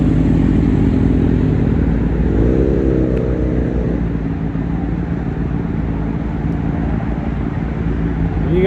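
Motorcycles arriving at an outdoor car and bike gathering, with a loud, steady engine rumble close by and a brief rising rev partway through over constant vehicle drone.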